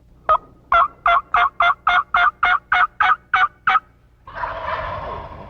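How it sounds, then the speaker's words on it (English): A wild turkey gobbles loudly and close by, a run of about a dozen evenly spaced, sharp gobbling bursts, followed by a rougher, longer rustling noise. "You're going to hear a lot of gobbling activity some mornings and some mornings less"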